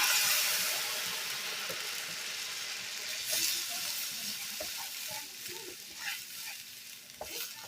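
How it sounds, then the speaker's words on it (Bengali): Spice paste for a fish curry with black cumin sizzles softly in a pan, with faint scraping of a spoon as it is stirred and occasional small pops, low and steady under a quiet kitchen background. "দিয়ে মশলাটাকে আর একটু ভালো করে কষিয়ে নেব।"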